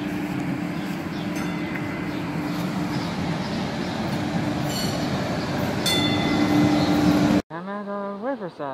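A Boston subway train rumbles steadily in a station with a low hum and occasional high metallic squeals, loud and close, cutting off abruptly near the end.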